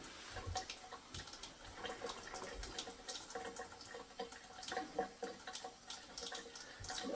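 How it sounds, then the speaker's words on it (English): Hot water runs steadily from a newly installed Moen Birchfield kitchen faucet, a faint, continuous splashing and hiss with small clatters as it hits the sink. "The hot water is all the way on."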